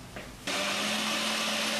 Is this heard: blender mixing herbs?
yes